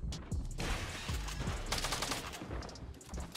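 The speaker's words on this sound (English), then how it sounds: "he's got a heavy shotgun" Heavy shotgun blasts in a battle royale video game, several sharp booming shots in quick irregular succession with some rapid fire mixed in, loud and without talk.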